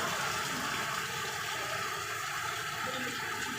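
Floodwater rushes and pours steadily in Navotas City, a continuous broadband gush that fills the space as the level rises, loud and unbroken with no pauses.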